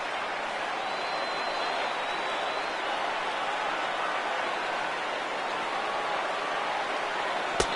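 Large baseball stadium crowd of over 39,000 cheering in a video game, a broad steady roar of voices and applause held throughout, with a sharp click near the end.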